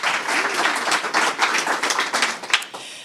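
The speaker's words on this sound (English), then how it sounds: "yes, we can clap for that." A crowd applauding at a press conference, dense steady clapping from many hands throughout, fairly loud and close, tapering slightly at the end.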